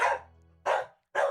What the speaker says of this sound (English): It's not polite to woof at people.